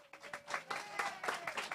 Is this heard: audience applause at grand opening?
yes